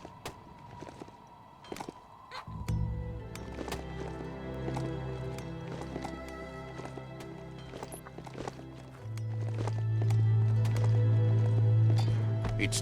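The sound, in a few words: horse mount hooves clip-clopping in video game Biomutant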